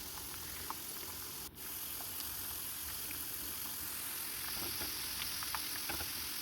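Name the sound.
ivy gourd pieces frying in hot oil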